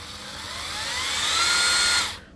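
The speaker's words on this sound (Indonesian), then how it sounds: "ini kalau kita tekan trigger pada mode auto, putarannya akan lambat terlebih dahulu" Cordless brushless impact driver DCK KDPL208 running in auto mode, a high whine that ramps up in speed over about two seconds and then stops abruptly, close and alone.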